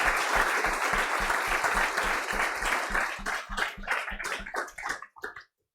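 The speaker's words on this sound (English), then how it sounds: "let's give a quick round of applause for Mario and Jonas" Audience applause at the end of a talk at the Data Days 2022 conference, steady crowd clapping that thins out into scattered claps before stopping.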